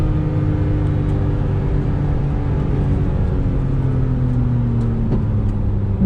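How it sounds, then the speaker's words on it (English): Engine of a Porsche 911 4S with PDK gearbox droning inside the cabin, a steady loud rumble with the pitch shifting as the car downshifts and slows, no talk. "this PDK is definitely quick shifting. Downshift, look at that."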